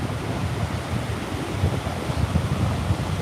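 Surf rolling onto a windy, bouncy beach, a steady low roar of breaking waves with wind rumble and no pauses.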